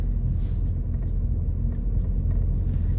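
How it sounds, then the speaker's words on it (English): Car with an off-center steering wheel driving straight down a road: steady low rumble of engine and tire noise from inside the cabin, continuous and fairly loud, with no talking. "I'm driving straight. The car goes straight."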